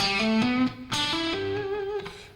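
An overdriven electric guitar climbs an E pentatonic scale in three-note-per-string groups with big stretches, about six distinct picked notes with a brief pause, ringing alone and clearly with no talking.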